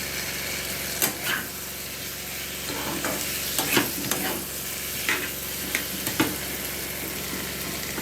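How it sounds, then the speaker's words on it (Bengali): Small peeled new potatoes tumble in spice masala in a pan, a constant close sizzle broken by periodic scraping stirs every second or so, fairly loud and without any voices. "ওই জন্য আলুটা দিয়েও একটু অল্প সময় একটু কষে নেব"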